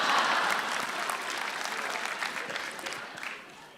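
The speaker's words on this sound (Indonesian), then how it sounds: "Tepuk tangan untuk Raditya Daki." A stand-up comedy audience at a roast show breaks into applause, loud and dense at first with a few cheers, then thinning and fading toward the end.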